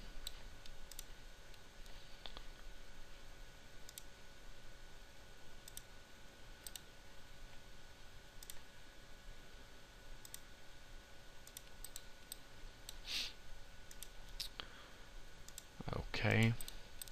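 Sparse mouse clicks while routing PCB tracks at a computer, a few light isolated taps spread through quiet room tone, ending in a slightly louder cluster of clicks.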